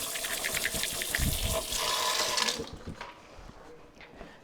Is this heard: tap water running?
yes